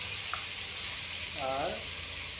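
Cumin seeds and turmeric frying in a pan, a soft steady sizzle throughout with a faint voice briefly underneath.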